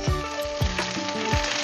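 Shanghai spring rolls frying in hot oil as a merienda snack, a loud steady sizzle with a few soft bumps and stirring sounds close by, no talking.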